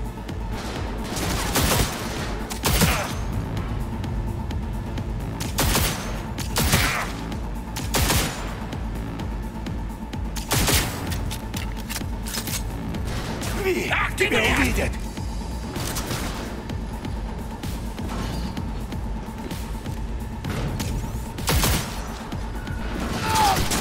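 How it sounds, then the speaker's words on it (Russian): Gunfire in the video game Cyberpunk 2077, with repeated loud bursts of shots and sharp blasts spread through the scene, mixed with crashes and mechanical noise, while players talk over the action. "Хороший выстрел!"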